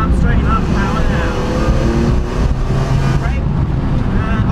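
A BMW E46 M3 engine roars steadily under load while drifting on a track, loud and close with wind buffeting, as a driving instructor talks over it.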